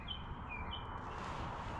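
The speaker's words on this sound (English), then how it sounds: "You hear those birds?" Birds chirp up in the trees outdoors, a few thin high calls sounding faint and brief over a steady broadband background of outdoor noise.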